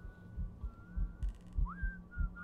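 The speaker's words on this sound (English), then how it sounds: "I don't like the whistling." An eerie, thin whistle in the Goatman survival game rises and wavers faintly over a steady low throbbing pulse, like a slow heartbeat.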